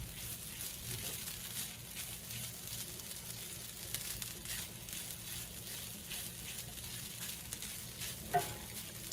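Food sizzles faintly in a hot cast iron pan while ingredients are stirred, a soft steady frying hiss with scattered scraping strokes and a brief clack near the end.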